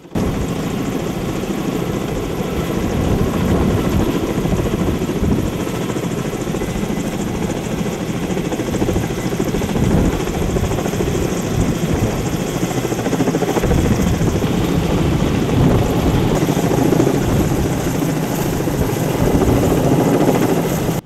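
A military helicopter's rotor thumps steadily and loudly throughout, a continuous heavy whirring drone with no break, during a navy boarding team exercise.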